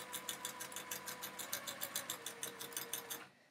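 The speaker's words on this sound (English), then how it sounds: "I'm just gonna sew a 1/4 inch seam there." A sewing machine runs a quarter-inch seam across a charm pack quilt, its needle chattering in a fast, steady rhythm close by until it stops near the end, with no voices over it.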